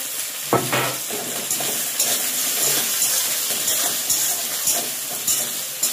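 Onion frying with tomato, green chilli, garlic and ginger paste sizzles loudly and close in a pan. A sharp clatter as ingredients drop in is followed by continuous crackling and stirring scrapes.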